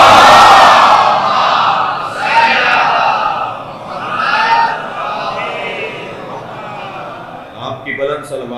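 A congregation at a majlis in an imam bargah loudly chants salawat in unison, a dense roaring crowd voice that swells and ebbs in waves, close and very loud.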